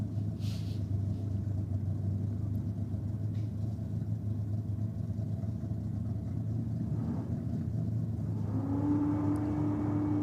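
A Holden Gemini drag car with a 400 cubic inch Chev engine holds a deep, steady rumbling idle at a drag strip, then the revs rise slightly near the end into a higher droning tone.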